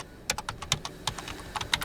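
Quick, light clicks of fingers typing on a computer keyboard, a short burst of about a dozen keystrokes at close range with no voices.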